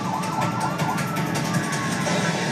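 Ambulance sirens wail continuously after a bombing, a steady, moderately loud warbling siren tone heard without talk for the whole stretch.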